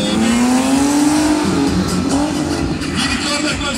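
A car engine revs at an American car festival, a loud continuous drone climbing slowly in pitch and then wavering, heard close over crowd noise and faint talk.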